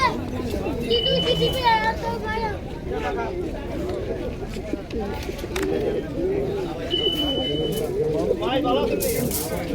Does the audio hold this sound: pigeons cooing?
yes